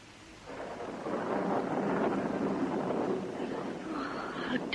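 A rising storm wind in a period radio drama set in Georgian England, a broad rushing roar that swells after half a second and holds steady and fairly loud throughout, with a faint higher whistle near the end.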